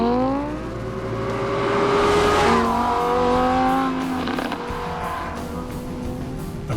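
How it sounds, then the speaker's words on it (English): A Lamborghini Huracan supercar runs hard on a race track, its engine note rising and shifting through gears with a loud, close howl and a brief tire squeal, no talking. "The Lamborghini Huracan."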